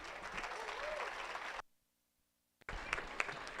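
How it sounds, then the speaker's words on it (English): Crowd applause for 4-H hog show exhibitors at a county fair, dense steady clapping that cuts out for about a second and then resumes. "let's get these kiddos a round of applause"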